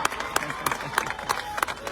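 A crowd clapping during a Punjabi political speech, scattered sharp handclaps in an uneven burst mixed with crowd murmur and a voice.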